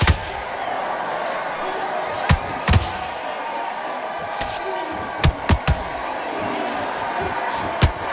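Punches land in a heavyweight bout in the Undisputed boxing video game, several sharp thuds spaced irregularly over a steady crowd roar in an arena.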